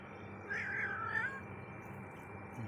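A well-fed stray cat gives a single faint, wavering meow outdoors, short and thin over a low ambient hum, with no voices.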